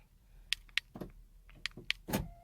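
Several sharp mechanical clicks and clunks of Honda door locks actuating from a key fob, close and fairly quiet, in quick pairs with short gaps between them.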